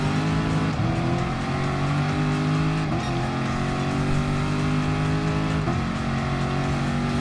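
Gr.3 race car engines at Le Mans in Gran Turismo Sport roar loudly and continuously, with brief dips at gear shifts every few seconds as the engine pitch climbs again.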